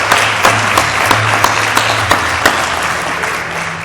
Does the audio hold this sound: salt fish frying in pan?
no